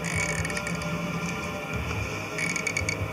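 A hand nutsert tool sets a rivet nut in a Can-Am Outlander skid plate, giving a steady mechanical creaking and grinding with faint metallic clicks, close by and fairly quiet.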